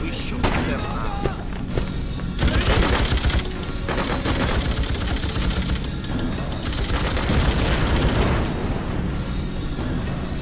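Gunfire in an Operation Flashpoint video game battle, repeated bursts of automatic and single shots with heavy booms, dense and loud throughout, with a voice talking over parts of it.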